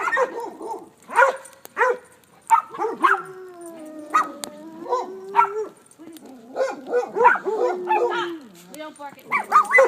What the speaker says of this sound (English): We don't bark at neighbors.